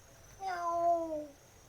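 A single cat meows once, close and fairly clear, a short drawn-out cry that falls in pitch over a quiet indoor background.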